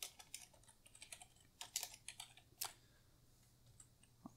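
Someone types on a computer keyboard in quick, light bursts of clicking keystrokes, close and fairly quiet, with short pauses between runs of keys and a faint background hum.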